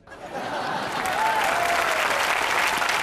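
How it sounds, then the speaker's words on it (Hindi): Sustained applause from the audience at a Christmas special comedy show, rising quickly and holding as a dense, even wash of clapping from a large crowd. "तालियां बचा के रखो, अगली बार फिर बजाना है।"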